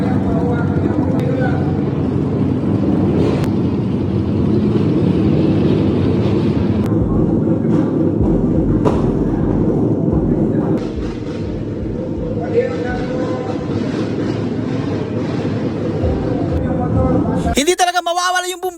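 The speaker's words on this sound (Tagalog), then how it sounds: "Hindi talaga mawawala yung bumbahan mga boss while preparing ng bikes nila." Motorcycles revving hard in a crowded lot before show judging, a loud continuous engine roar with surging throttle blips lasting the whole stretch, crowd chatter underneath.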